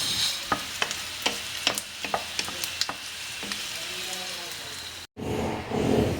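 Pork for sisig fries in a pan with a steady, loud sizzle, punctuated by regular clicks and scrapes of a spatula stirring the meat, then a brief cut before the frying surges again.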